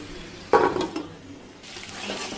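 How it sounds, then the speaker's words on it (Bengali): Water is poured into a pot of cauliflower, tomato and prawn curry, a sudden splashing gush that fades into a softer trickling and bubbling. "তো আমি এখন এটার মধ্যে পানি দিয়ে দিলাম।"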